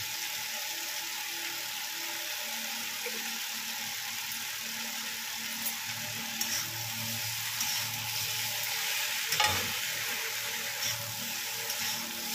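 Spices with ground coriander and Kashmiri chili powder stir-fry in a hot pan, giving a continuous close sizzle with occasional scraping and clinking of the spoon throughout.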